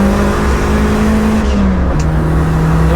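A Toyota Starlet GT Turbo cruises at an easy pace on the Nürburgring, its engine giving a steady, loud drone with a slight pitch shift and constant road and wind noise, no voices.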